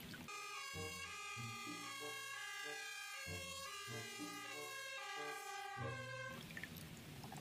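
A toy ambulance siren plays an electronic two-tone melody, clear and steady, repeating in a bright, tinny pattern before cutting off.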